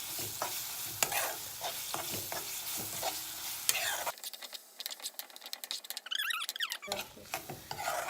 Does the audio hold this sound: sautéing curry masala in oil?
yes